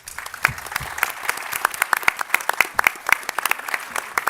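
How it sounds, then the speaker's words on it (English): A smaller audience claps for a defense cyber advisors panel at its close, with distinct individual claps rising and thinning into scattered sparse hand claps. "let's please give them a round of applause."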